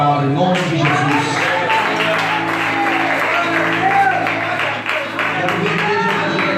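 A church congregation claps steadily through the whole stretch, a dense wash of applause mixed with voices and tuneful sound.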